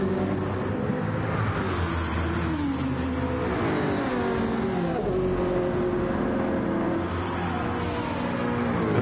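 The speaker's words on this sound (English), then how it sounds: "just climbing up that hill with the Jag. The engine's absolutely fantastic." A Jaguar race car engine in a racing video game revs loudly and continuously while climbing a hill, its pitch rising and falling through gear changes, with steady tyre and road noise underneath.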